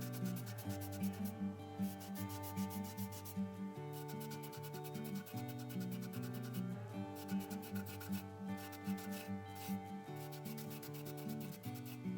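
A wet rag rubs over chalk-painted wooden letters on a thrift-store piece, working down between the letters in steady, close back-and-forth scrubbing strokes beneath continuous background music.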